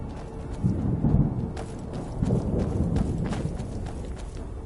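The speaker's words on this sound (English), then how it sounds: "I'll save a poor horse who is trapped." Hooves of a horse in Skyrim clop in uneven bursts at moderate distance, a few clusters of heavy steps over a low ambient bed.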